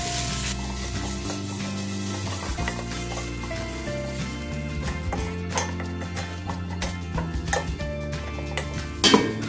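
Thai red curry paste sizzles and fries in a little oil in a pan with torn kaffir lime leaves, a steady close crackle and hiss, with occasional stirring clinks over music.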